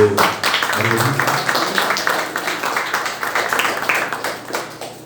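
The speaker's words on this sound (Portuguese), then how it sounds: "Dá uma salva de palmas ao Senhor." Worshippers in a church break into clapping for several seconds, a busy patter of hand claps with a brief voice heard at the very start.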